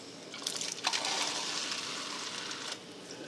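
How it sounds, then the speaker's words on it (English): Tap water pours steadily into a cup for a short, continuous stretch, a close, bright hiss with brief splashy bursts near the start and a tapering end, and no talking over it. "we're gonna put some water in here using the tap"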